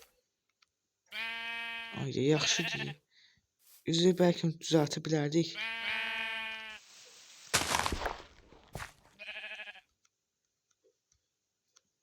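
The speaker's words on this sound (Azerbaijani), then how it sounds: "3 dənə qoyun var" Minecraft sheep bleat in short nasal calls, several of them spaced between stretches of a person talking in the game session, with a few faint clicks.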